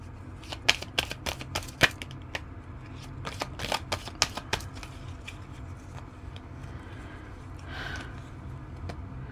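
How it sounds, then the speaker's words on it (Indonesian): Playing cards are shuffled close by in a run of sharp riffling bursts during the first half, then give way to quiet room tone with faint rustling. "Kocok kartu ambil 2"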